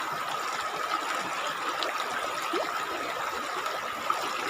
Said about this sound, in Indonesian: kita ini sedang berada di atas sungai ya,